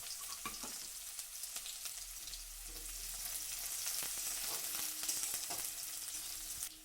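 Chopped onion sizzles in hot oil with garlic in a pan, a soft continuous frying hiss broken by irregular scrapes and clicks of a stirring spatula, swelling slightly toward the end.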